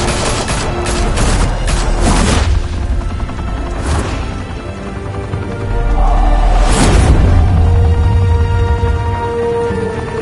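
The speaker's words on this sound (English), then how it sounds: "Open fire!" A squad opens fire in the Telltale Batman game, with a loud, dense burst of rapid gunshots and crashing impacts over a constant roar, and a few sharper shots standing out through the volley.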